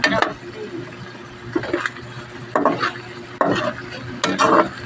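Corned beef with malunggay and egg fries in a pan, with bursts of stirring and scraping every second or so over a faint sizzle, close up.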